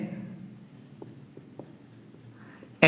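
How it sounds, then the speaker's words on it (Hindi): Pen or marker writing a chemical name by hand on a board or paper, a steady soft scratching with a few light taps, close by, ending in a sharp louder knock. "तो आप इस तरीके से लिखेंगे"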